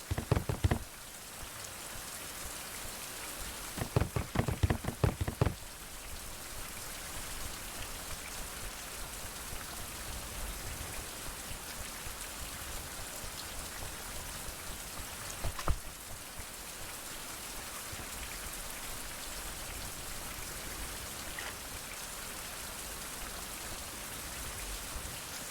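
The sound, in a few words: rain falling in a video game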